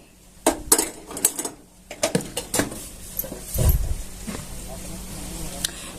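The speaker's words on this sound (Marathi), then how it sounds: "इथे मी कढई ठेवून घेतली गॅस पेटवते" A kadhai wok is set down on a gas stove with several sharp metallic knocks, followed by a brief low whoosh as the burner is lit, while a voice talks faintly.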